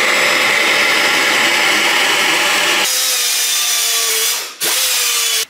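A power tool cutting, loud close whining and buzzing that shifts pitch midway, then briefly cuts out and restarts before stopping abruptly.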